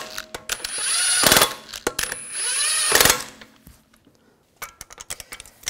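A power tool snugs the wheel lug bolts on a 2004–2009 Audi A4 Quattro. Two close, loud whirring bursts of about a second each are followed by quieter clinks and rattles of metal parts.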